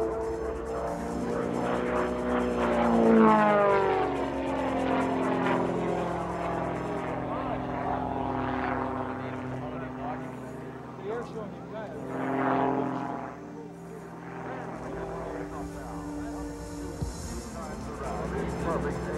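A propeller aerobatic stunt plane flies with a steady engine drone that rises and falls in pitch as it maneuvers, while someone talks over it throughout.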